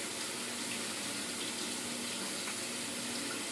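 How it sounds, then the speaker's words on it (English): Water streams from a tap over peeled, deveined large shrimp in a colander, giving a steady, fairly quiet rushing splash with no voices. "I gave them a quick rinse."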